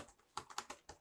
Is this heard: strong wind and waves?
no